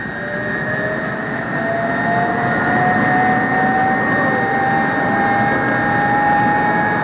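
Jet engines of a Convair F-102 fighter spool up with a loud, steady roar and rising whine, broadband rumble under high tonal whistles, continuous and close.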